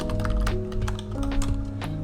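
Fast, steady typing on a computer keyboard, with dense clusters of sharp key clicks heard up close alongside a droning low background hum.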